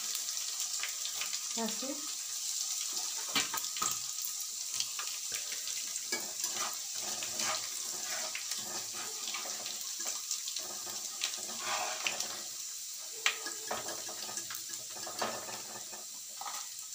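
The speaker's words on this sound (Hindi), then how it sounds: "और इसके बाद कमरकस को फ्राई करेंगे।" Kamarkas frying in a pan for green moong dal panjiri, a steady sizzle under repeated scraping stir strokes, with running water and a brief spoken word nearby.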